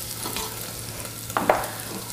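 Bacon frying in a pan with its fat rendered out, giving a low steady sizzle with a couple of brief louder stirring scrapes near the middle, no voices.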